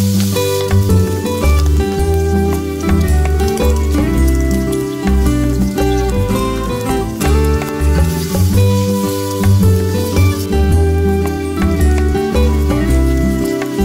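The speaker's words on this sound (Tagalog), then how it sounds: "Igisa lamang po natin ito hanggang sa ito ay mag-golden brown." Meat sautéing in oil for pinakbet gives a steady, loud sizzle under a continuous bed of music.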